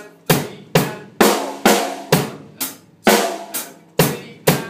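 A drum kit plays a steady beat alternating bass drum and snare drum, about ten evenly spaced, close, loud hits with sharp attacks and short decays, and no voices.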